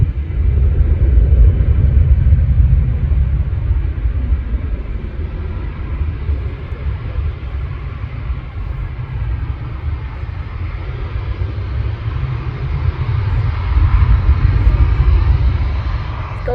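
A Jet2 Airbus A321 airliner at Manchester Airport produces a loud, steady engine roar and deep rumble that holds throughout.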